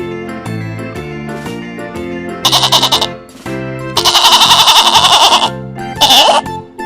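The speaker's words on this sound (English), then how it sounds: "Goat." A goat bleats in several loud, wavering cries, short bursts separated by pauses, over a steady background of music, with no speech.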